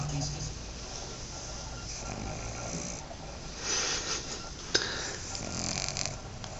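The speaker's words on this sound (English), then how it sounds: "Just turn on the TV volume so you can hear her snoring." A dog dozing after a small dose of Benadryl for allergies snores softly with slow, irregular breaths and a few snorts, faint against background room noise.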